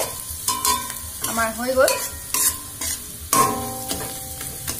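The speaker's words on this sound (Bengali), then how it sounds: "আদা আর ধনিয়া দিয়ার পিছত এইটো আমার বেশি টাইম ফ্রাই করব নালাগে" Ginger and coriander frying and being stirred in a kadai, with a steady sizzle broken by scraping stir strokes and brief harmonic clatter, close and fairly loud; a voice speaks once.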